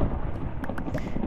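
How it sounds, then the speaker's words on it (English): Steady rain in Minecraft, a dense low rumbling wash of falling water with a few faint taps on top, continuous for the whole short stretch. "It's raining out."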